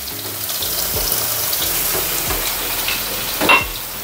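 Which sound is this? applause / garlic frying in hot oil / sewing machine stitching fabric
garlic frying in hot oil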